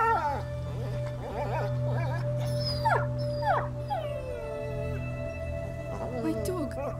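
A dog in A Plague Tale: Innocence howls and whimpers in drawn-out, wavering cries of rising and falling pitch, close and fairly loud over a steady low game drone, with voices talking at moments.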